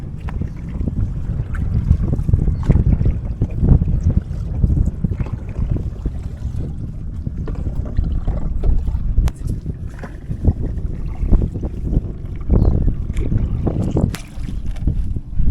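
Oars working a long boat across water, with steady broadband splashing and wind rumble in the mic throughout, a continuous close wash of water and air with no speech.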